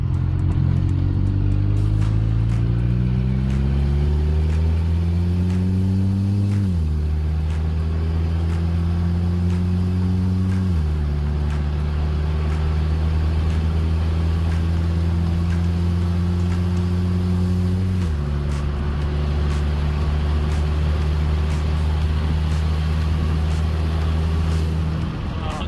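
Audi A4 project car engine, long parked and with spongy brakes, accelerating through the gears on a road, each upshift marked by a drop in pitch before the steady whine climbs again, loud and close throughout.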